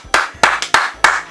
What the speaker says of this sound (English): A ring of applause.